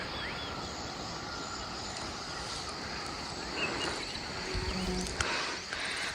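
A small camera drone whirs steadily overhead above village wheat fields in Lamjung, Nepal, continuous and fairly distant, with a faint insect-like buzz in the background.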